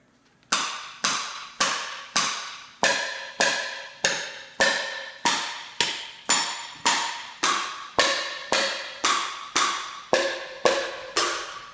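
Steady series of about sixteen sharp metallic taps as a hammer strikes the valves of an old car engine to find stuck ones, each ping ringing briefly, close and regular, with no voices.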